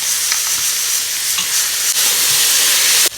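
Ginger and garlic fry in hot oil for goat leg curry, a loud, continuous sizzling hiss close up, with a brief stirring scrape near the end.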